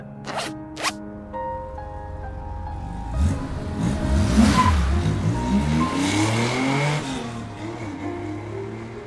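A car in the Love and Deepspace video game drives off with a squeal of tires, starting with a few short clicks, then a rising engine rev and a sweeping screech that fades away.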